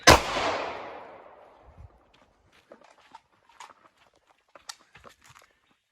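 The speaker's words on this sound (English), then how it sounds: "As we press the trigger, we're going to accidentally heel the gun, causing the round to go high." A single pistol shot cracks loud and close at the start, its boom decaying over about a second, followed by faint scattered shuffles and clicks.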